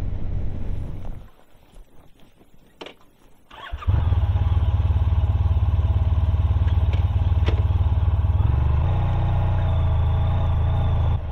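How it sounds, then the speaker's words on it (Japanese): A 2014 Honda VFR1200X Crosstourer with DCT rides a dirt forest road, its engine note dipping briefly, then rising to a loud, steady drone with occasional clatter from the rough surface. "ホンダ VFR1200X で林道を走り始めました。"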